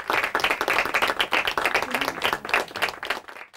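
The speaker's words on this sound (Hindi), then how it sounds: "जोरदार तालियां हो जाए इनके लिए" An audience at a Hindi quiz show final round claps in a dense, steady burst of applause that tapers off after a few seconds.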